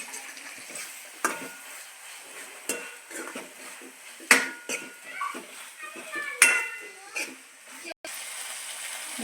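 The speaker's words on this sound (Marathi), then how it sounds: "आता सॉस घालत आहे." Green chilli sauce goes into chilli chicken frying in a pan for an Indo-Chinese gravy, with a crackling sizzle, repeated scraping stirs and metal clinks from a spatula.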